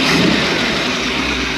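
A 1934 three-window coupe engine running after twenty years idle, loud and close, a steady throaty roar with a slight swell early on, no talking.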